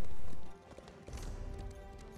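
Horse hooves clip-clop at a gallop in The Elder Scrolls Online, a quick rhythmic patter heard up close that drops off after a loud opening, alongside other game sounds.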